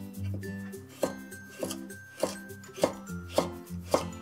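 A knife julienning a carrot on a cutting board for chicken chow mein: steady, crisp chops about every half second, six or seven in a row, close and clear with no talk.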